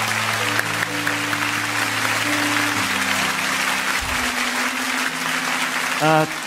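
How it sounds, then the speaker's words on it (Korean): A church congregation at an early-morning autumn revival service claps in sustained, even applause over held keyboard tones, ending with a brief voice. "우리 한 번 더 의와나 팀 또 오늘 수고하신 분들 박수로 격려합니다"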